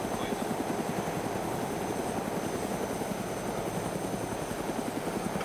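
Steady helicopter rotor drone in the video game Arma 2, with a constant low chopping hum, loud and continuous throughout, with no speech over it.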